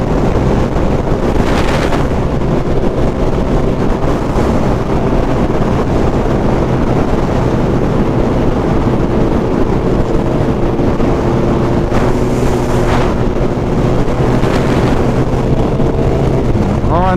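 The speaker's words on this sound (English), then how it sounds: "We're driving with 9 Hayabusas and 1 Honda" A group of nine Suzuki Hayabusa motorcycles and one Honda CB1000 riding together on a night ride, heard as a steady, loud engine drone with heavy wind buffeting the microphone throughout.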